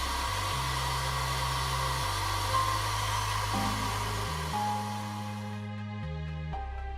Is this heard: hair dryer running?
yes